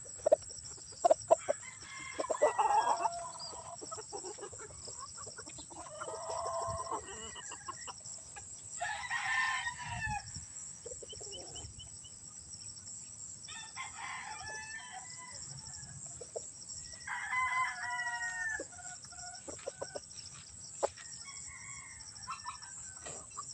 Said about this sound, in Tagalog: Mga staglan po ito.